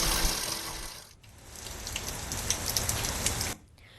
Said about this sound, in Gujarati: છેલ્લા 1 કલાકથી ધીમે ધારે અહીંયા વરસાદ ચાલુ છે।